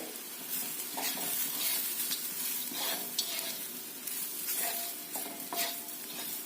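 Radish pods tossed with coarsely crushed peanuts in a hot pan give a steady sizzle, broken by repeated scraping stirs of a spatula, close and continuous, with no talking.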